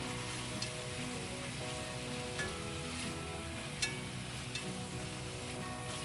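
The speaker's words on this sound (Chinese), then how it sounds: "接下来炒洋葱。" Onions stir-frying in a pan for a Japanese beef curry, just after slices of beef were briefly seared, giving a steady, dense sizzle with faint scraping stirs all the way through and no voices.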